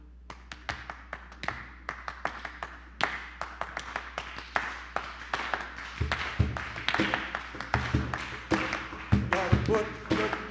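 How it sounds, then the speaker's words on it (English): Hands clap in a steady rhythm at a Unitarian Universalist gathering, with sharp, close claps that grow louder and denser partway through. "we're going to demonstrate some ways that you can clap up here"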